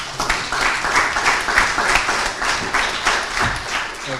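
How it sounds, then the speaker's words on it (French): An audience at a French book presentation on video game magazines claps together, a moderate burst of many hands with slightly pulsing rhythm, close and fairly loud, no talking over it. "on va vous applaudir"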